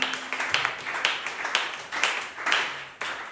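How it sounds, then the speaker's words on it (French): A church congregation at a Tuesday worship service claps in rapid, uneven bursts, many hands together at a moderate distance, steady applause throughout with faint voices underneath. "Applaudissez le Seigneur Jésus"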